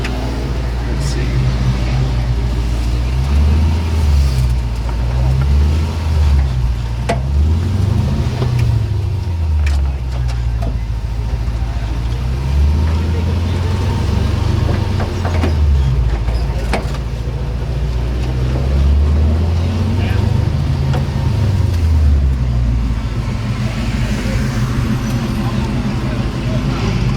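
A 1966 Toyota Stout truck with a supercharged Lexus engine swap cruises along, its engine drone steady and loud with rising and falling low revs as it shifts through gears, road rumble throughout and voices talking over it.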